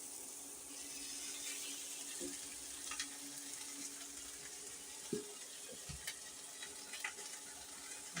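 Sauerkraut drops into a pan of frying mushrooms and shallots, bringing a steady soft sizzle with a few wet thumps and scrapes as it lands; fairly quiet and close.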